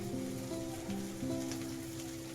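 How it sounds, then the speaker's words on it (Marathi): Dried fish (sukat) roasts in a pan with onion and tomato, giving a soft, steady sizzle that sits quietly beneath sustained background music tones. "कांदा टमाटा सोबत ना सुकट पण चांगली भाजून घ्यायची"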